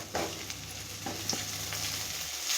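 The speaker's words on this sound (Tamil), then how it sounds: "வெங்காயமும் தக்காளியும் நல்லா வதங்கி வரட்டும்." Chopped onions and four tomatoes sauté in a hot pan, giving a steady soft sizzle with a few faint stirring scrapes and taps, close and continuous.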